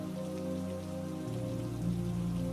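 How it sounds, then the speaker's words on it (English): Soft, steady drizzling rain falls on a surface, a gentle even patter, close and calm, heard alone with a low tonal hum underneath. "as the rain fell in a soft drizzle"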